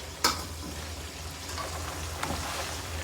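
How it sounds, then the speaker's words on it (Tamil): Blue crab fries in hot oil with curry leaves, giving a steady crackling sizzle with a couple of sharper pops standing out near the start and toward the end. "கருவேப்பிலை போட்டு இப்படி ஃப்ரை பண்ணி எடுத்துக்கலாம்"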